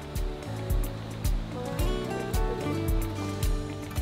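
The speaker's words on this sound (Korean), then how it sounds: "맑은 물소리를 따라 발걸음을 옮겨봅니다." Flowing water near Seogwipo on Jeju Island makes a steady, loud, continuous rush with no voices, and a faint rhythmic low thumping pulses underneath.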